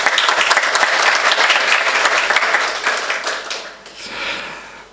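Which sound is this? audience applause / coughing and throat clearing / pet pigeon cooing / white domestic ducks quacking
audience applause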